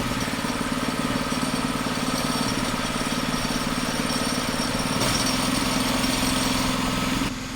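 Car engine idling with its exhaust being used for cooking, a loud, continuous rough mechanical drone with a steady pulsing rhythm, close by and unbroken, shifting slightly in tone partway through.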